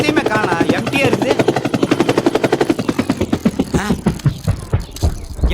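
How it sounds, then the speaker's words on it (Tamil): Rapid, regular rotor chop of a helicopter overhead, a steady pulsing thud that is loud and close at first and then thins and fades toward the end, with no talk over it. "ஏதோ ஹெலிகாப்டர் சவுண்ட் கேக்குதா?"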